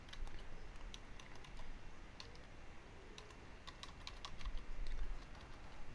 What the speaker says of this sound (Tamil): அந்த கோடை நான் மறுபடியும் திரும்ப டைப் பண்ணிக்கிறேன்